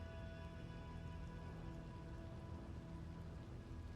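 Steady rain falls in the town of Blackwater in a Red Dead roleplay game, a constant soft patter with a low ambient hum beneath it and no talking.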